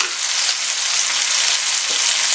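Onion, garlic and tomato sautéing in a pan for kuzhambu, a loud, steady close sizzle and frying hiss running unbroken, with a faint stir or scrape near the end.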